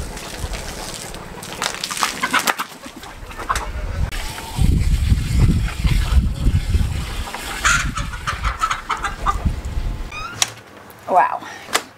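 Chickens cluck intermittently close by, mixed with rustling and scratching movement, while a person talks over parts of it.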